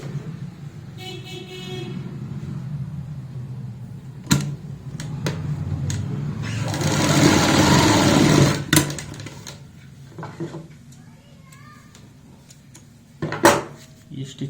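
A sewing machine stitches elastic into a loop for a palazzo pant, running in one short whirring burst in the middle, surrounded by quiet clicks and fabric handling.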